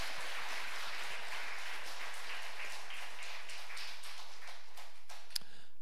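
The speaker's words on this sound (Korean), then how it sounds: "우리 다 같이 한번 큰 박수로 하나님께 영광의 박수를 드립니다" A church congregation at worship claps loudly in praise. The dense applause fades toward the end and closes with a single sharp tap.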